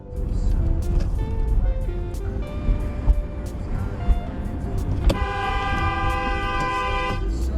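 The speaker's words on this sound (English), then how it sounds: "so she honks back" A car horn blares steadily amid loud traffic noise, its tone holding bright and sustained for a couple of seconds near the end.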